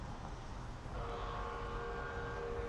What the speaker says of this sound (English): That's a train. Oh no, that's a subway.